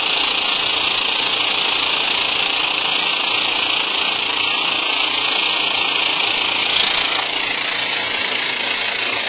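A portable welder laying an anchor weld, heard as a loud, steady buzzing and crackling hiss that runs unbroken throughout, close and harsh, with no talking over it.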